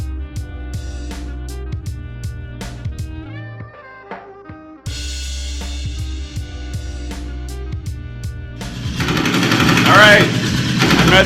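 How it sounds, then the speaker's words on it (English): Machine gun fire greets visitors at the Museum of Contemporary Art in Belgrade. It comes as a loud, dense rattling burst near the end, after a stretch of tonal, music-like sound. "At the Museum of Contemporary Art, and it greets you with machine gun fire."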